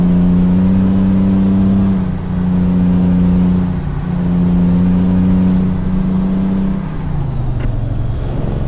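A Peterbilt 389 truck engine labors up a hill in American Truck Simulator, a loud, steady low drone with a droning high whine that rises and falls, easing off near the end.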